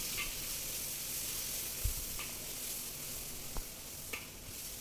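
Ground spice paste of shallots, garlic and onion sizzles in hot oil as a steady, bright hiss, close and constant, broken by a few faint soft taps.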